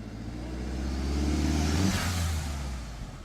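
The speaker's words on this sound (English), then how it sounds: "I finally have the diverter valve at the right setting where it won't flutter" MK4 Jetta with an aftermarket diverter valve revving, the engine note swelling to a peak and then easing off in one smooth rev, close and fairly loud, with no flutter and no talking.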